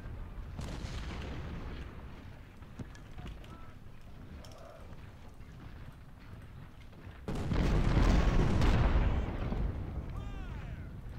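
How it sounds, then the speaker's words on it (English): Civil War artillery at the Second Bull Run in Ultimate General: Civil War thuds in scattered distant booms, then swells into a heavier, louder rolling barrage lasting a couple of seconds before easing back to a rumble. "Here comes the artillery"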